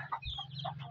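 Short clucking bursts from a rooster being judged as breeding stock, several quick calls close by over low steady background noise, no talk.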